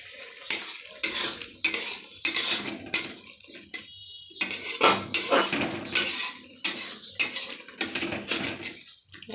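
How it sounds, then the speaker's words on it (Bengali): Tomato and onion-garlic paste being stirred in a pan, a spoon scraping and clinking against the metal in repeated bursts with short pauses, close and clear over a faint sizzle. "ভালোভাবে একটু নাড়িয়ে নিচ্ছি।"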